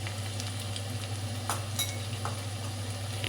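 Garlic frying in a pan for gobi manchurian: a steady, close hiss of sizzling oil with occasional soft stirring clicks and small pops, heard alone without speech.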